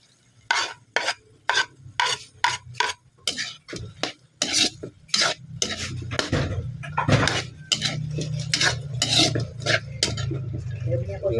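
Pancit canton noodles stirred in a pan, with a spoon scraping the metal in quick rhythmic strokes up close, then a denser, continuous scraping and rustling over a low sizzle.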